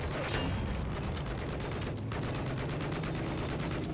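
Gunfire in Battlefield 4, including a .50-caliber weapon: dense, continuous bursts of rapid automatic shots rattling without pause, loud and close, with distant booms beneath.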